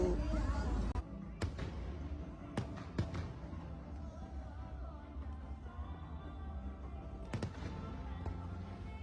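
New Year fireworks popping in the distance, a handful of sharp bangs spaced irregularly over a low murmur of a crowd outdoors.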